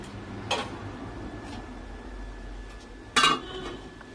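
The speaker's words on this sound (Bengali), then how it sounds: "ঢাকাটা তুলে দেখছি।" A metal lid lifted off a pot of tomato chutney gives two brief, bright clinks, one faint and one louder, over a low quiet kitchen background.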